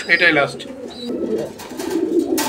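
A caged male pigeon gives a short, close cooing call, a soft throaty burst at the start followed by a quieter rumbling coo.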